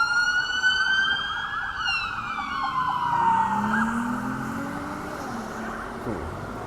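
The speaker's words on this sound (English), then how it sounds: "Cops just racing past the street." A police car siren wails loudly as the car races past on a city street, its pitch sliding down as it passes and moves away, with traffic noise underneath.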